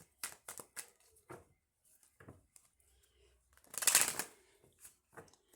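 Tarot cards being shuffled for a reading, a few short riffling bursts followed by one longer, louder cascade of cards, close and clear with no talking.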